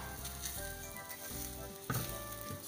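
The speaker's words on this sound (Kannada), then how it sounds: "ತವ ಇಟ್ಕೊಂಡಿದ್ದೀನಿ, ಸ್ವಲ್ಪ ಎಣ್ಣೆ ಹಾಕ್ಕೊಳ್ಳಿ, ಬಿಸಿ ಆಗಿದೆ. ಇವಾಗ ಮೆಂತಿ ಪರೋಟ ಹಾಕ್ಕೊಳ್ಳೋಣ." Methi paratha sizzles on a hot oiled tawa, a steady close frying hiss under quiet background music, with no talking.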